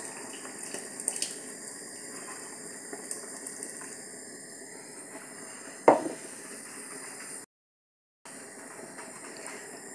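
Pickled cucumber brine is poured into a pot of solyanka soup, a steady watery splash running for several seconds with a brief louder slosh partway through before a short break.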